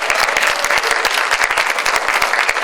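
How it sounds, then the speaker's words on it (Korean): A live painting music talk show audience in a university hall claps loudly, with distinct individual hand claps standing out within a dense, steady burst of applause and some crowd noise. "우레야 같은 함성 너무너무 고맙습니다."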